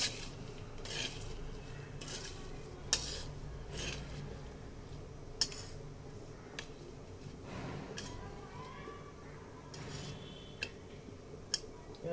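Peanuts roasting in a pan while a utensil scrapes and taps the metal now and then, giving faint, sparse clinks and rustles over a quiet background hum.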